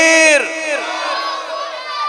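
Large crowd at a religious gathering in Gujranwala shouting back the Takbir chant in unison, a loud, brief collective roar that tails off into scattered voices.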